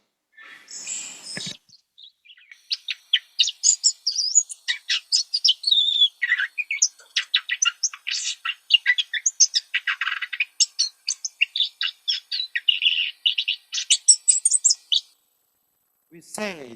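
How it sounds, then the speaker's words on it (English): Juvenile songbird sub-song: a long, close run of rapid, irregular chirps and warbles, noisy and patternless, with a brief rough burst at the start and silence near the end. "At first, the birds sing very noisy and random patterns."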